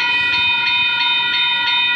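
A loud, sustained multi-tone Caltrain horn blares steadily for the whole stretch in San Mateo County, California, with faint rail rumble underneath.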